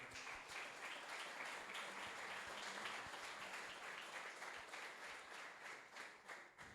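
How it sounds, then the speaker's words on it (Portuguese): A church congregation at a worship service applauds in praise, a dense, steady wash of many hands clapping together, heard fairly faint and distant and continuing evenly, with little speech. "As palmas, louva o Senhor."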